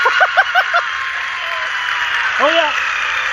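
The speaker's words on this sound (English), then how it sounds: "People are applauding." Steady applause in the ISRO control room during the Chandrayaan-3 moon landing mission, a dense wash of clapping with short vocal chuckles and cheers rising over it.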